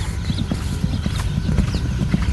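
A foal's hooves clip-clop in quick, uneven steps close by on a hard surface, with a busy rumbling background and a faint whinny-like sound.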